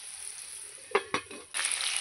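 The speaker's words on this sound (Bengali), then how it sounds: "আলুগুলো এবার ভালো করে ভেজে নেব।" Potatoes frying in a pan make a soft continuous sizzle, broken by a few light scraping stirs, with the sizzle swelling louder near the end.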